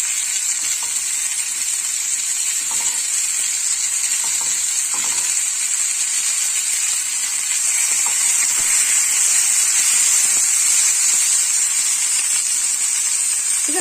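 Ingredients for cucumber chutney sizzle and fry steadily in a hot pan, a continuous bright hiss with a few faint stirring clicks, close and fairly loud with no talking.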